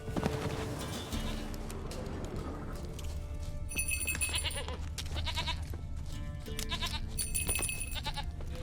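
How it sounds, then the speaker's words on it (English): Goat bleats from The Witcher 3: Wild Hunt, mixed into busy game audio with music, hoofbeat-like clopping and ambient layers, with several short cries rising over the steady background. "Goat."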